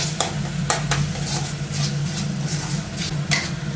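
Spinach cooks with flour and ginger paste in a pan on medium flame, gentle sizzling under a few light spoon clicks against the pan as it is stirred continuously.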